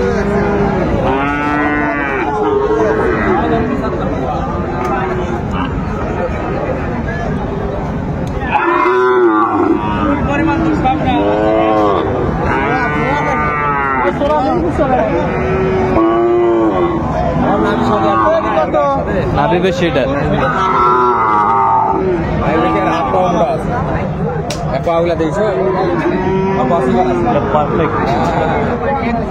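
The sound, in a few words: Sahiwal cattle and bull calves mooing at market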